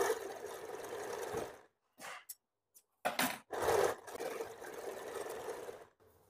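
A sewing machine stitching a blouse, running in close, loud bursts with short pauses between them as the fabric is repositioned.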